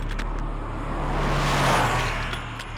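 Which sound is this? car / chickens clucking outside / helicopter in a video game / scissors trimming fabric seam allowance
car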